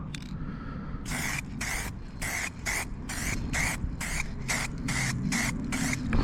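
Spray paint hisses in about ten regular bursts, each roughly a third of a second, as a first blue coat goes onto a Piaggio Typhoon scooter panel outdoors over a steady low wind rumble.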